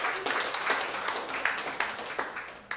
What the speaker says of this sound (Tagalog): Isa muna pong palakpak sa Panginoon.